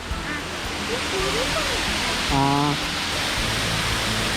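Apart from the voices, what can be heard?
small waterfall, Arikkal waterfalls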